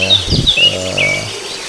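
Birds, including ciblek and Java sparrows (gelatik batu), being released into the Andalajava aviary, giving loud, close high chirps and whistles over a low rumble of background noise.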